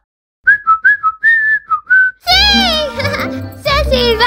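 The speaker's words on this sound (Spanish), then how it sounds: "¿Estoy silbando?" A Nenuco toy baby doll whistles in a short series of bright, clear tonal chirps, loud and close, before a voice begins speaking over the following seconds.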